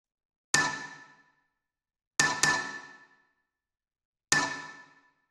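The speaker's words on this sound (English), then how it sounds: "After that, we have this chord stab, which sounds like this." A short sampled chord stab from a tech house track, pitched down, hits three times alone with gaps between: one stab, a quick double hit, then one more. Each carries a bright attack and a decaying tail.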